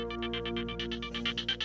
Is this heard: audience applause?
no